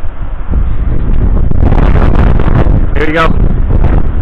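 Strong, steady wind buffets the microphone outdoors after a storm under cloudy skies, a continuous low rumble throughout with a person speaking briefly over it.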